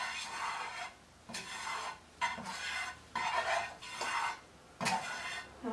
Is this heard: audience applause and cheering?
no